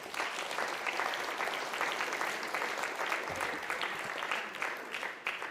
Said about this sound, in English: join me in giving a heavy clap to our amazing events organizers, Istream Africa,